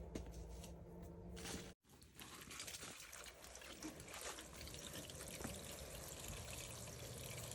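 Water poured over vegetable seedlings in a pot, a soft close trickle and splash that runs almost continuously with one brief pause.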